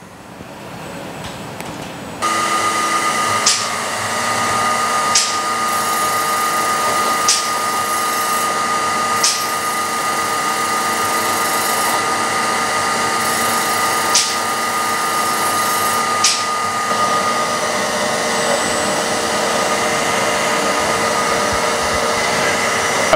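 A CNC grinding machine dressing its grinding wheel against a diamond dresser, a loud steady whine that starts abruptly and runs on, punctuated by sharp periodic ticks.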